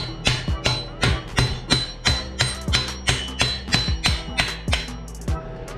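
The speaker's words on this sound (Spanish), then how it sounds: "Justo así con el martillo le vas dando y va a salir tu crank de este lado" Sharp metallic hammer blows knocking a BMX crank off its spindle, about a dozen strikes in a steady rhythm with short ringing decays, close and loud with no talk.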